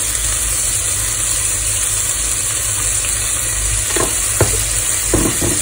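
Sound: stir-frying long beans and beef with sesame oil and sweet soy sauce

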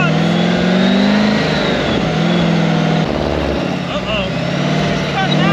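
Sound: mid-engine V8 Taylor-Dunn 4x4 engine running

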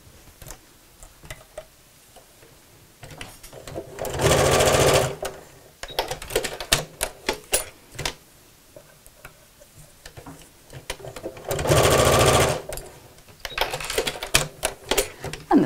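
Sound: sewing machine stitching a tote bag seam

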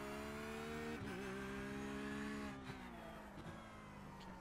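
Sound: Porsche 911 GT3 R race car engine in iRacing video game

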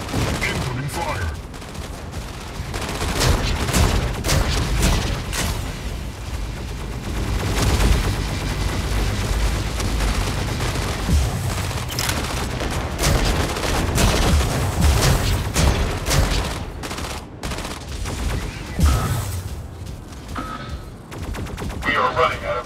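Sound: gunfire in a video game

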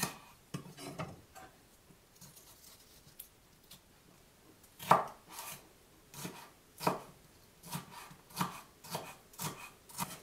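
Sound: chopping two mini bell peppers with a knife

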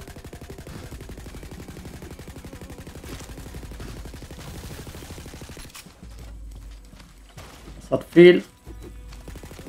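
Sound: LMG-like gun firing in video game Tiny Tina's Wonderlands

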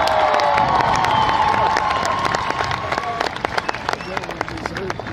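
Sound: graduation crowd applause and cheering

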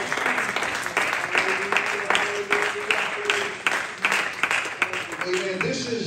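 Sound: audience applauding in church

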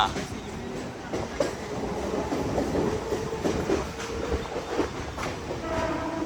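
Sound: suburban train running on rails

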